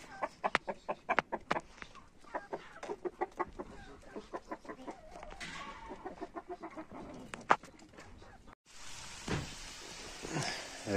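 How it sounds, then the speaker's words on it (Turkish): A rooster and hens at a mountain highland farm cluck in a steady run of short, punchy calls close by, followed by a louder, denser burst of fowl noise near the end. "Horoz Bey, nasılsınız?"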